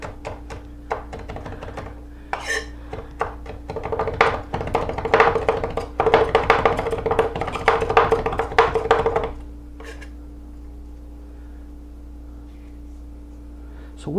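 A knife rocks up and down on a cutting board while mincing for a pork roll recipe, giving a steady run of quick, close taps and thunks for several seconds before stopping into quiet room tone.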